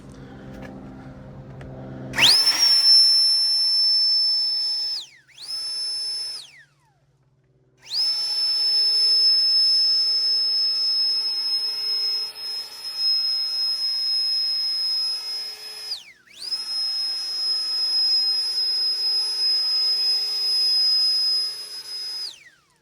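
A Seese cordless jet leaf blower moving piles of leaves outdoors gives a shrill, high-pitched whine that rises, holds steady and drops away in several separate bursts with short pauses between them.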